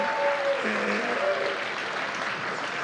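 A crowd at the Iowa State Fair applauds a one-man strolling performer, a steady, even patter of clapping throughout, with a few faint tones drifting over it early on.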